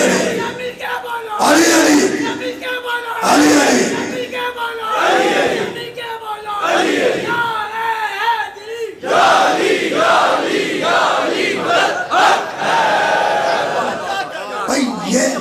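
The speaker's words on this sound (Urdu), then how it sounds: "یہ وجد کی کیفیت اللہ, رسول اور علی کے نعرے میں آتی ہے" Large crowd at a Muharram majlis chanting religious slogans in unison, loud and close, in repeated surging bursts with voices overlapping throughout.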